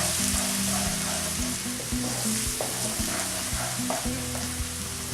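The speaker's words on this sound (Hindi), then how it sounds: "इसे थोड़ा सा सौते कर ले थोड़ी देर के लिए।" Chopped ginger and garlic sauté in hot oil in a pan for restaurant-style chicken handi, giving a steady close sizzle with stirring scrapes and clinks throughout, and no voices.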